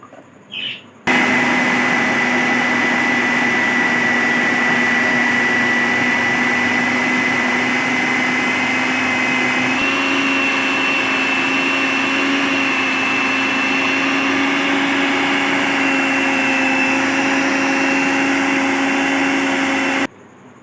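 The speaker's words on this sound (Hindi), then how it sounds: "अब चॉपर में हम डालेंगे सारा अदरक अपना" Electric chopper grinding ginger, a steady loud motor whine with a constant pitch that runs unbroken for about twenty seconds, starting abruptly after a brief pause and cutting off sharply at the end, with no voices.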